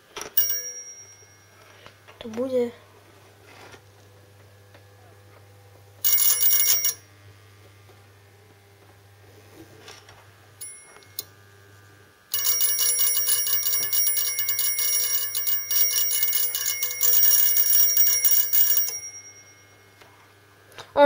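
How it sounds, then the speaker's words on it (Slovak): A homemade Meccano electric bell rings in rapid bursts, a short one first and then a long sustained clatter, with a low mains hum between bursts and a few spoken words near the start. "Skúsme, ako nám bude teda zvoniť."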